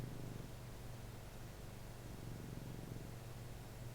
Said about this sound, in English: What note is the purring?